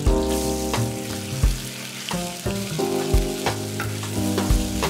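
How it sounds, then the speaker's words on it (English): Shrimp frying in oil in a wok over high heat, a steady loud sizzle with repeated clanks and scrapes of a utensil stirring against the metal. "we'll heat up a wok with oil on high heat and cook our shrimp"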